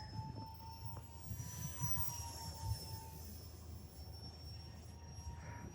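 An E-flite UMX Viper 30mm RC jet flying aerobatics over snow, its thin, steady electric ducted-fan whine with a faint shifting pitch at a distance over low wind rumble, no talk.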